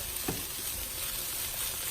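Shrimp frying in a pan, a steady soft sizzle that runs unbroken under faint background hiss, with no talk.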